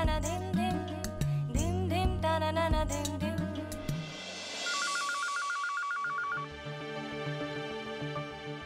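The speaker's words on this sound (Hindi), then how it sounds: "राशि के पापा फोन उठाइए" Phone call being dialed in a domestic scene from the Hindi TV drama Saath Nibhaana Saathiya: a run of steady DTMF keypad tones about midway, after loud music and clatter in the opening seconds, then a quieter tail.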